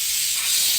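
A pressure cooker cooking chole vents steam in a steady, loud, broad hiss that holds unbroken and close, with no voices over it.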